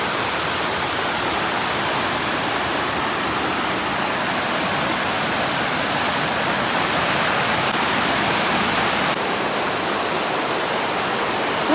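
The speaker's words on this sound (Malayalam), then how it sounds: "ഈ ഒരു വെള്ളച്ചാട്ടമൊക്കെ എനിക്ക് ഭയങ്കര ഇഷ്ടമാണ്" Waterfall at Maramec Spring Park, a continuous broadband rush of falling water, close and fairly loud, holding steady throughout with no voices.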